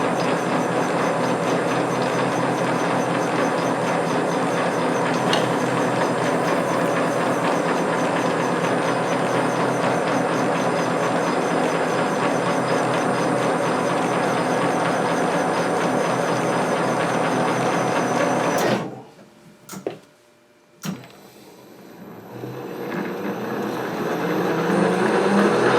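A lathe turns at 250 RPM, cutting a shallow pass on a surface grinder lead screw, giving a steady, loud machine drone for most of the clip before it abruptly cuts out and the noise gradually creeps back up.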